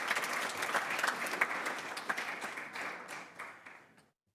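An audience at a public school board meeting breaks into steady applause, a dense wash of many hands clapping that fades out after about four seconds.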